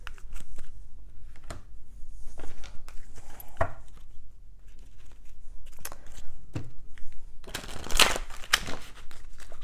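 Oracle cards shuffled and handled at close range, irregular papery riffles and taps with a louder burst of shuffling near the end.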